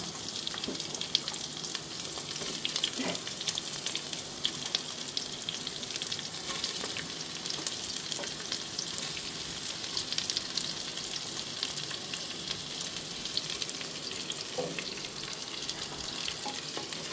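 Onions are dropped into hot oil in a pan for a chicken dish, giving a steady, close hiss of frying with occasional soft stirring clicks, and no one speaks.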